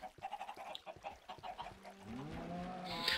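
Video-game chickens cluck in quick rhythmic bursts while packed into a tube, followed by a longer squawking, honking call near the end.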